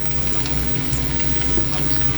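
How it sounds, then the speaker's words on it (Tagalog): Pork sizzles and fries in its own rendered oil in a pan, a dense, steady crackle heard close and alone. "Stir fry."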